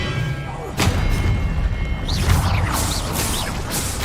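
An Expelliarmus spell striking in the Hogwarts Legacy video game: a sudden heavy thud and crash followed by swooshing magical whooshes over a busy game soundscape, loud and close.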